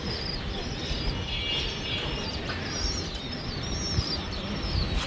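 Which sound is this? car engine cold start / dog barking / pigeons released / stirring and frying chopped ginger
pigeons released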